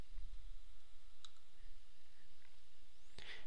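Mouse clicks while operating Microsoft Project software, clicking the OK button to substitute a work resource; one sharp click near the end follows a couple of faint earlier ticks over quiet room hiss.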